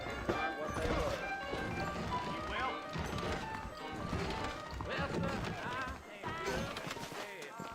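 Horses clip-clop along in the Red Dead Redemption video game, a steady run of hoofbeats close by, with speech and other game sounds layered over them.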